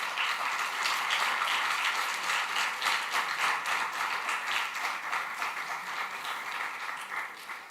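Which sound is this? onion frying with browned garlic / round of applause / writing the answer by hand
round of applause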